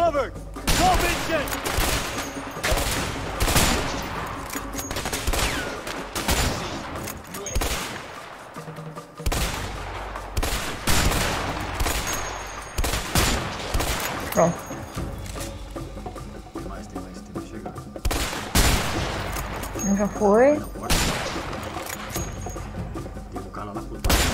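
Gunfire in the co-op video game A Way Out during an assault on a compound: repeated rapid shots and volleys with heavy thuds, dense and loud throughout, with players talking at times over the combat.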